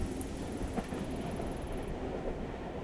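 Train ride in the video game Tokyo Dark: a steady low rumble of a rolling train carriage with faint rhythmic wheel noise, continuous and even, with no talking.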